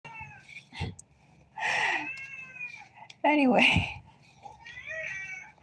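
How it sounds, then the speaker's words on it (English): A pet cat meows several times close by, drawn-out cries with rising and falling pitch, mixed in with a person talking indoors. "we'll just ignore him meowing in the background"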